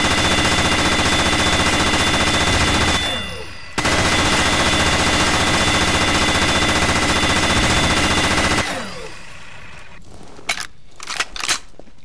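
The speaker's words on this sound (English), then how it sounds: "this weapon fires pistol bullets" A minigun in Garry's Mod, firing pistol bullets, unleashes a long, dense, loud continuous roar of rapid shots, breaks briefly, resumes, then winds down to a few scattered sharp pops.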